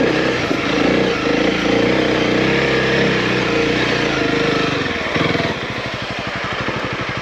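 A heavy 230 kg motorcycle idles close by with a loud, steady rumble, then settles into a slower, distinct throbbing pulse for the last couple of seconds.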